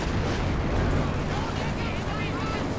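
Katyusha rocket artillery barrage in Company of Heroes 2, a dense continuous rumble of overlapping blasts and crackle across a 4v4 battle, loud and sustained, with commentary voices underneath.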